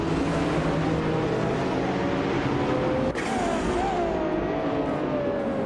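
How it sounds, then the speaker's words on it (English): At the race start on the Korean Grand Prix track in a racing video game, a 2016 Ferrari 488 Challenge and rival cars roar with a loud, continuous engine drone whose pitch rises and shifts as they accelerate. "the race just kicked off at the Korean Grand Prix track, and Nuts is starting on pole with the 2016 Ferrari 488 Challenge"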